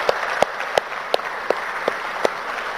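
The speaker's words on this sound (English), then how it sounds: "Can we have a bigger round of applause for the chief guest?" Applause for the chief guest at the FTCCI Excellence Awards 2022 ceremony at HICC, Hyderabad: a steady hall-wide clapping wash with a few louder individual claps popping out at regular intervals, sustained throughout.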